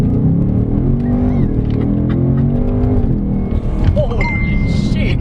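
A 2024 Ford Mustang GT V8 accelerates hard, its engine note climbing through rising gears as a loud, close drone, with an excited voice talking over it.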